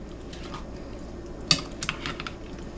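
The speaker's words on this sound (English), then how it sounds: "Now the only thing to do is start giving it some stirs." A metal spoon stirs a heavy pot of campfire stew with beans, potatoes, ground beef, bacon and onions, giving a sharp clank partway through, then a few softer scrapes and knocks against the pot over a steady outdoor background.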